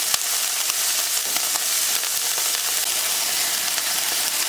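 Steak for a cat sizzles steadily in a pan as it cooks on one side, with a dense, close, continuous frying hiss and occasional small pops and crackles.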